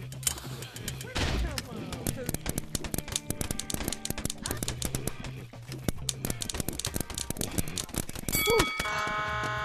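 Rapid paintball gun shots in the Rec Room video game crack out in dense bursts and scattered single pops, near and sharp, with players talking over the firing throughout.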